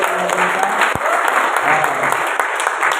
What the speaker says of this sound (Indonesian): Kita tepuk buat tim praise and worship.